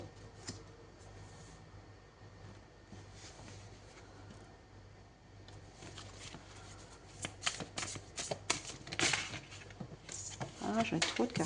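Tarot cards are shuffled by hand in soft, papery riffles that grow into sharper, louder bursts toward the end, with quiet talking faintly present.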